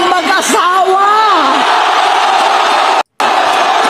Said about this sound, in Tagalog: na-amaze ako dun sa sigawan ng tao